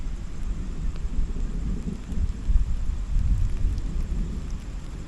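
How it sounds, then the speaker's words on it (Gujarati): Unseasonal rain with lightning and thunder in Gujarat's Gir area: a steady wash of rain runs under low, rolling rumbles that swell and fade across the stretch, with no voices. "આગળ વરસાદનો અવાજ આવે છે."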